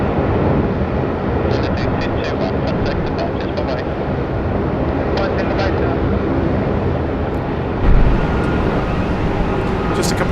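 An AirAsia X airliner out of Kuala Lumpur flies over Sydney Airport, a loud continuous broadband engine roar sustained throughout, with a short thump near the end.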